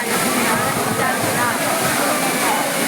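Water pounds down at the Courtallam waterfall in a loud, unbroken hissing roar, heard up close and steady for the whole stretch.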